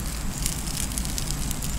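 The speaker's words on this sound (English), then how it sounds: "Just something about cooking over a campfire." Campfire along the Mad River crackling steadily while food cooks over the small fire, a continuous close hiss with scattered faint pops and no talk.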